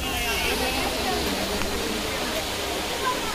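Katiki waterfall in Araku Valley, with water rushing in a steady, loud broadband roar heard close by throughout, unbroken and even in level.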